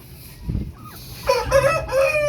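A fat chicken sick with a severe respiratory illness lets out a raspy, drawn-out call nearby, followed by several throaty clucking notes, with faint background noise.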